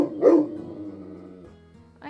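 A cartoonish dog bark from the cooking video game Battle Chef Brigade, one loud yip near the start that trails into a held tone, with a short sound returning at the end.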